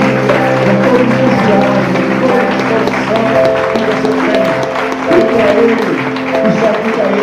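A church congregation claps during worship amid loud sustained music with held instrumental tones, the applause blending into the dense, full sound.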